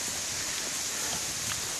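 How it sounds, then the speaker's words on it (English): Steady rain patters in a continuous broadband wash in the woods along the Caesar Creek State Park perimeter trail, fairly close and even, with no talking. "It's raining."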